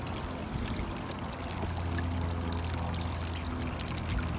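Water gushes steadily from an aquaponics siphon as it drains, a continuous close pouring and splashing flow that swells slightly toward the end.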